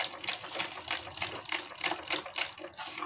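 A sewing machine stitches a kurti in quick rhythmic bursts of clattering needle strokes, close and fairly quiet, with no talking.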